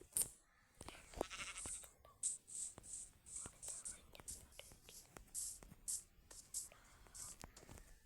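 Repeated high, bleating sheep calls ring out in a survival video game, over soft whispering and scattered clicks.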